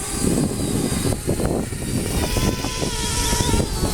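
A Parrot Bebop 2 drone in flight: steady, loud, close propeller buzz with a rough, fluttering texture and small shifts in pitch as it hovers, with no speech over it.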